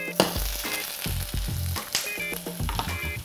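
Chicken, onions and almonds brown in a pan, a continuous crackling sizzle broken by several close, rhythmic clattering knocks as the pieces are stirred and moved. No one speaks.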